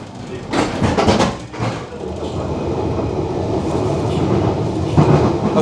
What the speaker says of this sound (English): the Bakerloo line train's a lot quieter